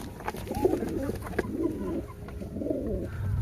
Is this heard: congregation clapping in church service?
no